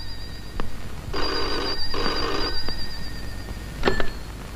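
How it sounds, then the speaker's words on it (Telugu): A telephone rings in a Telugu film scene, two long trilling bursts of bell ringing close and clear, followed by a brief fainter ring near the end, with no talk over it. "పాపం ఏదో అర్జెంట్ ఫోన్ కాల్ ఉంది"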